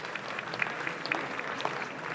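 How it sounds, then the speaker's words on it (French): Audience applause for a newly introduced speaker at a marketing conference in Paris, a steady, dense patter of clapping hands sustained from start to finish with no voices over it. "Merci de l'applaudir."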